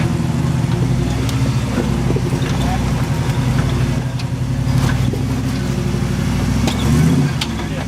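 An off-road vehicle's engine drones loud and close, revving in surges while crawling a tight, twisty rock trail slick with mud; the low rumble runs continuously throughout.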